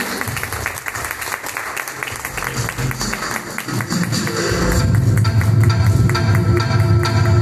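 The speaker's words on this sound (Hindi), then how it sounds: "अब तो जोरदार तालियां बनती है" Audience at a live fashion show breaking into applause, dense clapping that swells louder and fuller partway through, with crowd noise mixed in.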